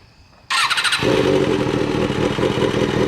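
A Kawasaki ZX-6R sport bike with a newly replaced clutch cranks with a short starter whir, then catches and settles into a loud, steady idle close by, with no talking.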